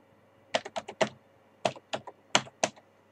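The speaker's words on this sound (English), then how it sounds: "I will type in holidays." Typing on a computer keyboard while entering a photo group name: a few quick bursts of separate key clicks in two short runs with a pause between, close and clear, with no talk.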